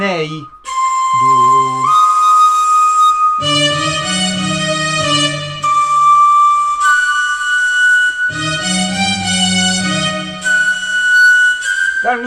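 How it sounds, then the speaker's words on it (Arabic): Electronic organ playing a flute-like voice in an Arabic melody, a steady run of sustained whistly notes with short pauses between phrases, loud and close with no talking. "ده صوت الناي"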